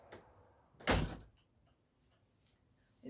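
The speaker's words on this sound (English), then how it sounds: "Here goes the door." A door opens and shuts with one solid thud in a quiet house with dogs, followed by faint rustling and a soft knock at the end.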